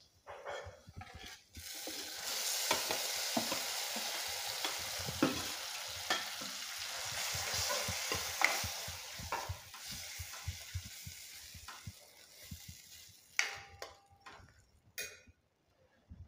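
Chakvat greens hit a hot pan of sautéed garlic and green chilli and are stir-fried, giving a steady close sizzle with repeated scraping and clattering stirs throughout, no voices.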